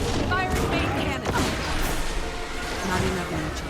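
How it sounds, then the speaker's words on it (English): A main cannon fires in the Guild Wars 2 video game: a dense, rumbling barrage of booming blasts and crashing impacts rolls on continuously at full loudness, with a voice speaking briefly over the din. "Firing main cannon."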